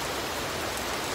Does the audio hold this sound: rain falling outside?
yes